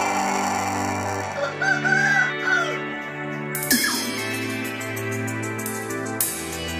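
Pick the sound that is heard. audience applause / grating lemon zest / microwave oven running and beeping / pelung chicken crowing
pelung chicken crowing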